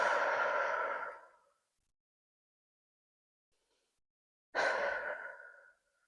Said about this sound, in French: simplement on reste et on respire profondément